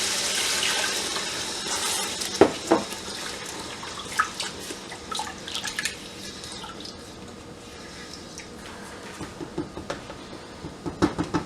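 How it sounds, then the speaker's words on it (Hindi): Water poured from a glass into a pot of kofta masala, a steady splashing pour at first, then intermittent drips and small splashes, close and fairly quiet. "2 गिलास पानी शामिल कर दूंगी"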